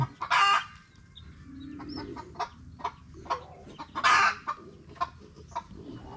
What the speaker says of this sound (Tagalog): Hindi maintindihan ng mga sisiw ko mga kasinag kung saan tatakbo eh.